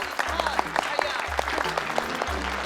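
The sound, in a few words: applause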